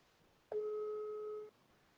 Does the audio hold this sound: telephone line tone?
yes